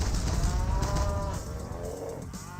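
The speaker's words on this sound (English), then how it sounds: "Oh, mutant cow attacking other cows." Cattle in the real-time strategy game Universe at War moo in a long, low, drawn-out call that fades toward the end, loud and alone.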